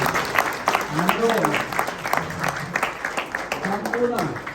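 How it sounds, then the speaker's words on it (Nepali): An audience at a church gathering installing new office-bearers claps steadily in a moderately distant round of applause, while a person speaks over it. "हामी सर्वप्रथम त ताली बजाएर परमेश्वरलाई धन्यवाद दिनेछौँ यतिखेर"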